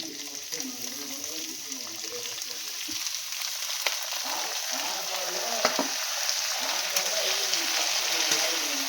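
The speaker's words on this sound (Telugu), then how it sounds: "ఉల్లిపాయ వేగుతూ ఉంటుంది అందులోకి ఇది కూడా వేసుకున్నాను క్యాబేజీ కూడా వేసుకున్నాను" Onion and cabbage fry in a hot pan with a dense, steady sizzle, close up, broken by occasional small stirring scrapes and taps.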